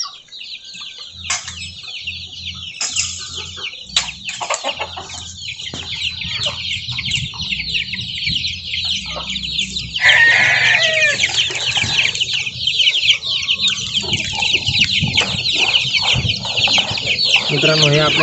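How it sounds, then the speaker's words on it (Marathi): Chickens being fed a moistened feed mix cluck and chatter continuously close by, with low rustling and handling noises beneath, and the flock grows louder and busier in the second half. "अशा प्रकारे मी माझ्या या कोंबड्यांना खाद्य देतो आहे"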